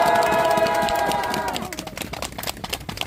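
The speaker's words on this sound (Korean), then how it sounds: "다시 한번 박수 한번 주십시오" At a protest rally and press conference in Seoul, a voice trails off and scattered, crisp clapping from the crowd takes over, irregular and moderately close.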